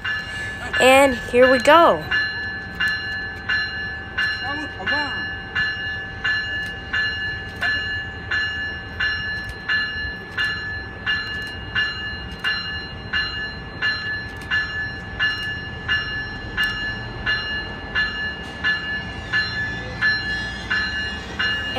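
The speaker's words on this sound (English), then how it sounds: "we have CDTX SC44 Charger 2112 built by Siemens Mobility in Sacramento, California." A Siemens SC44 Charger locomotive, number 2112, rolls past at Fullerton with a steady, evenly spaced clicking of wheels over rail joints, preceded by a short tonal burst and a brief spoken remark.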